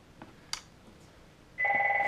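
A telephone starts ringing near the end with a sustained, loud electronic tone. Before it, a quiet room holds only a couple of faint clicks.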